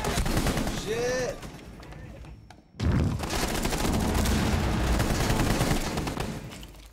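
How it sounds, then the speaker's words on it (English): Rapid bursts of gunfire fill a Rainbow Six match, loud and dense through most of the stretch, broken by a short near-silent gap before the shooting resumes. "Stop shooting!"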